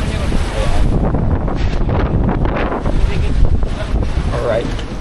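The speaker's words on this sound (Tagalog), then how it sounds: "Malakas yung hangin!" Strong wind buffets the microphone at a boat port in the Philippines, a loud, continuous rumbling roar that blankets everything, with a voice faintly audible underneath.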